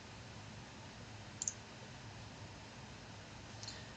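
A computer mouse clicking during a WordPress sitemap plugin walkthrough: one sharp, close click near the middle and a fainter second click toward the end, both over a steady hiss with no talking.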